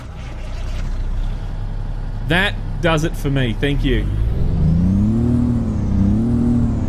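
The Kenworth W900 truck engine in American Truck Simulator idles low and steady, is briefly drowned by a burst of short air-brake or horn blasts, then revs up and down in smooth swells while someone talks.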